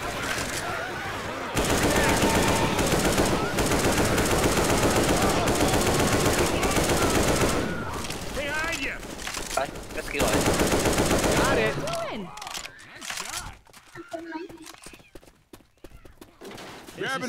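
Sustained machine gun fire in Left 4 Dead 2, loud and near, rattles almost continuously for about ten seconds before breaking into scattered bursts and shots, with voices talking at times.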